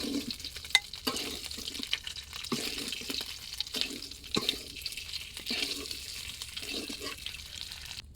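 Fried fish is lifted from a hot pan, giving a soft ongoing sizzle with intermittent scraping and clinking of a utensil, fairly quiet and close.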